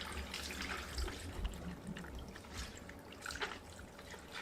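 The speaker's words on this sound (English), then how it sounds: "So go ahead and add your water." Water poured into a pitcher while making a Mexican fruit drink with squeezed juice, a steady close trickling and splashing stream running throughout with no talk.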